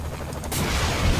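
Gunfire in the video game Saints Row 3, a dense burst of shots that breaks out sharply partway through and keeps going, loud and close.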